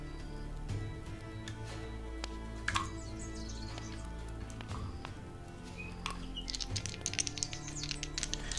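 Birds chirp and tweet in scattered bursts over a steady low hum, fairly faint and distant, with no one speaking.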